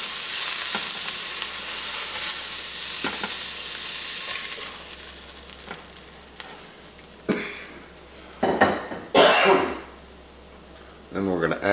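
Pork chops fry in a pan for smothered pork chops, a loud, continuous close-up sizzle that runs throughout, with a few louder bursts of clatter and spatter toward the end.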